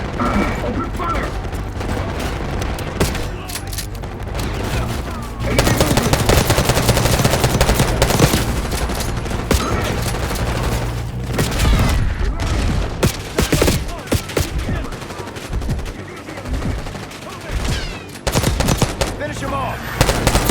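Sustained machine gun fire in the Call of Duty Black Ops 6 video game, dense rapid bursts layered with mechanical clatter and booms, continuous and loud throughout, with voices calling out over the battle.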